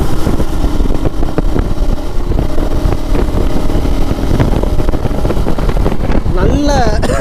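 A 2025 KTM Adventure 250 motorcycle engine drones steadily while riding, mixed with rushing wind noise against the microphone, with a brief higher whine near the end.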